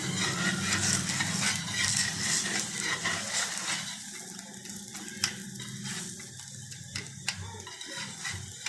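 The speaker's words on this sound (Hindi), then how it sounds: "अच्छे तरीके से आपने इसको ऑयल में फ्राई करना है" A potato paratha fries in oil on a hot pan, giving a steady crackling sizzle with scattered pops and scraping, loud at first and then thinner and more intermittent.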